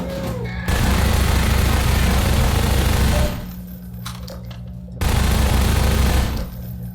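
Sustained gunfire in the video game Half-Life 2, two long, dense, loud bursts of continuous shooting separated by a quieter gap with scattered clicks.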